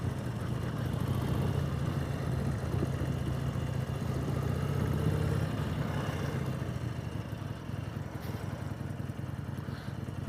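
Harley-Davidson Sportster motorcycle engine running steadily as it rides around a parking lot, a continuous low rumble throughout with mild swells and dips in throttle, fairly close and alone without talk.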